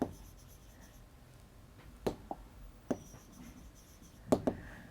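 Equations being written on a board during a maths lesson on pairs of linear equations, heard as a few sparse, sharp taps and strokes of chalk or marker over a quiet room, with no talking.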